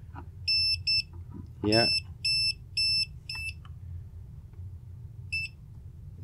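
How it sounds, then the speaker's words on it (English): An OWON CM2100B clamp multimeter's non-contact voltage detector gives a run of short, evenly spaced high electronic beeps close up, pausing then one more beep, with a brief spoken word and low background hum. "non-contact voltage detector, which I believe is this little bump in the top here"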